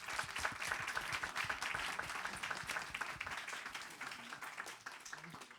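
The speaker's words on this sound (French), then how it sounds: "Je pense qu'on peut les applaudir." An audience applauds the panelists at the close of a round-table discussion on decarbonization in the hotel industry, a sustained and fairly distant burst of clapping that slowly thins out.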